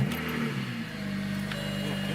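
A car engine runs at a steady, moderately loud idle with a low rumble and a slight rev rising early on, then settles into an even hum throughout.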